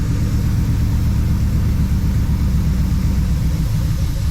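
A 1966 Ford Fairlane with a 390FE V8 and 4-speed manual, its engine catching as the clutch is let out, gives a steady, loud, close low rumble throughout with no rise in pitch.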